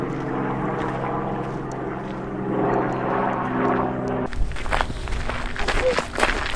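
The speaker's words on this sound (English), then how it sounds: "Oh, it's right there, helicopter." A helicopter passes over a German forest as a low, steady droning hum for several seconds. It then gives way to wind gusts and crunching footsteps on the trail.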